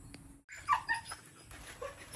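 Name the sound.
dogs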